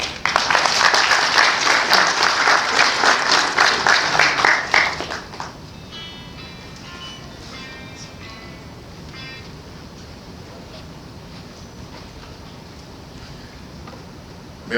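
Loud, steady applause from a conference audience welcoming the Activa group president, filling the first five seconds before cutting off to a quiet room with faint murmurs.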